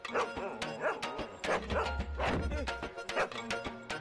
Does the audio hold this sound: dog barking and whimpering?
yes